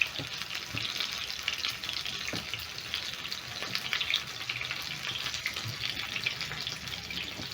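Chicken breast fries in a pan for chicken katsu, a steady close crackling sizzle with bursts of spitting oil that carries on without a break.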